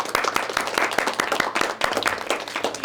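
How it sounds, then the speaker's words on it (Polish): Applause from an audience at the final of a school cooking contest, steady, dense clapping in a hall, fairly close and even throughout. "Pierwsze miejsce, Michale, gratulacje, brawa ogromne."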